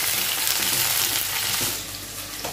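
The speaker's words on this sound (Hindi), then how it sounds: "तो अभी शिमला मिर्च और प्याज को मैंने हल्का हल्का पका लिया है" Capsicum and onion frying in a pan on a gas stove, a steady close sizzle that stays level and then eases slightly toward the end, with no talking.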